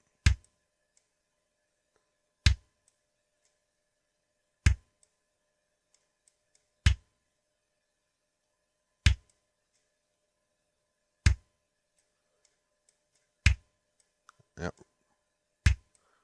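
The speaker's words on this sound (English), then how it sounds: "Now I want a little more click, but I don't like the click that's there" Short, sharp drum clicks in Mixcraft ring out one at a time at roughly two-second intervals, each isolated against near silence, with a faint brief rattle between the last two.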